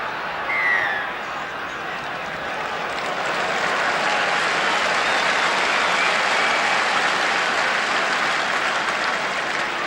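A crowd of about 42,000 at a 1981 New Zealand versus Scotland rugby test in Auckland cheers and applauds continuously, a dense roar of clapping and voices at steady volume.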